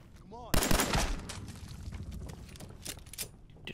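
Heavy .50 caliber machine gun fire in a video game opens with a sudden loud burst of shots, followed by scattered gunfire and rattling effects that trail off amid game noise.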